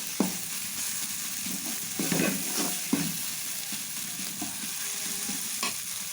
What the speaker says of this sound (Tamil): நல்லா மசாலாலாம் வதங்கி வந்துருச்சு